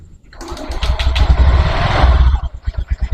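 A Honda Scoopy motorcycle engine cranks and catches, then runs at a loud, uneven idle with rough pulsing firing that turns into distinct chugging beats near the end, close to the microphone.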